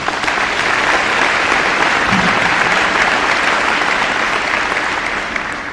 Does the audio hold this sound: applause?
yes